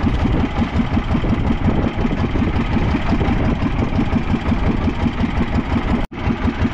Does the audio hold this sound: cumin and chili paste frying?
no